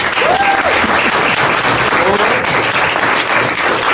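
Audience applause after a guest speaker's talk, a dense, steady wash of many hands clapping at once, loud and close, with a few voices faintly mixed in.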